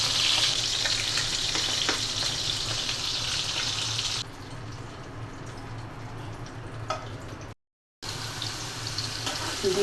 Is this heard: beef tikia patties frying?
yes